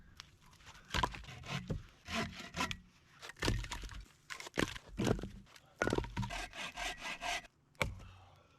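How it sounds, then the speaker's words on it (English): Firewood is cut by hand at a snowy winter campsite with no tent. Repeated rough wooden rasping strokes come in bursts with short pauses between them, close and fairly loud, and nobody speaks. "Now I need to chop up some firewood"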